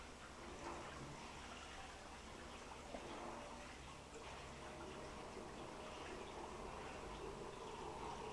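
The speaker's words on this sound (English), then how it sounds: "and pour the water onto my hand" Water poured by hand into an aquarium tank while it is being filled, a steady, faint splashing gush that runs unbroken and alone at an even level.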